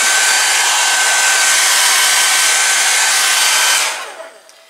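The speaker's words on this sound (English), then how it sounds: "Do you ever want to just keep the hairdryer going just to warm up, even when your hair's dry?" A hair dryer blows in a loud, steady rush of air close by for nearly four seconds, then switches off and quickly fades.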